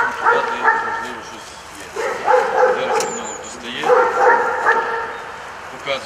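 An explosives detection dog gives repeated yelping barks in two short bursts close by, with a person talking over and between them.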